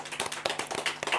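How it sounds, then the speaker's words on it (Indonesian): Brief round of hand clapping from a small audience on a podcast set as a guest is introduced, several quick claps close and moderately loud, alone. "Tepuk tangan."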